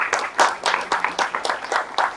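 Audience at the World Hemp Congress clapping for a presenter, a short burst of applause with uneven, overlapping claps that rise and fall, fairly close and moderately loud.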